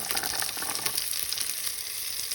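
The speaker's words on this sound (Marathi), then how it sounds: "आतां मातशें रोस्ट करूया आतां तेलान बटरान" Vegetables for zafrani pulao (carrot, French beans) roasting in oil and butter, a steady soft sizzle with faint stirring ticks, close and unbroken for a couple of seconds, no talk.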